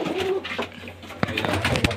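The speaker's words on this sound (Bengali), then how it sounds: "এরকম ঘরের মধ্যে অনেক পায়রা ছাড়া থাকে" Pigeons kept loose inside a room cooing, a short low throaty coo followed by rustling and scattered knocks, close and moderately loud in a brief indoor clip.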